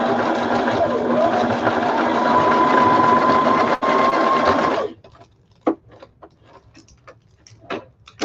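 A sewing machine runs a zigzag stitch in one fast, continuous mechanical whir with a rising pitch, then stops abruptly, followed by scattered clicks and light handling noises.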